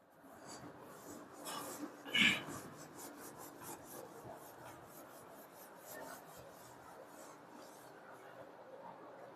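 Soft rasping strokes of rubbing out writing on a board, with a louder scrape near the start, faint and steady in a quiet room.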